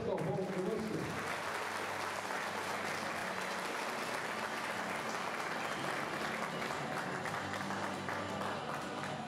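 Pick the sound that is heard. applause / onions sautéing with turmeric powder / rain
applause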